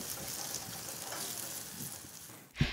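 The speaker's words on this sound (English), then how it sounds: "we want to grill the meat until we have nice grill marks on either side" Pork patties sizzle steadily over medium heat on a grill, giving a close, continuous crackling hiss that ends in a brief clatter. No one speaks.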